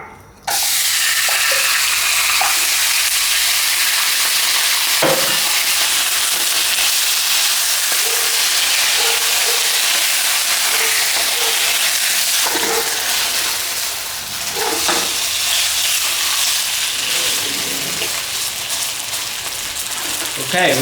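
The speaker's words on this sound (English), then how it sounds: "we're going to pan fry each side of the steak for a few minutes until it's golden and brown" Steak searing in olive oil in a preheated pan, a loud continuous broad hiss and sizzle with occasional clanks, lasting throughout and sounding close.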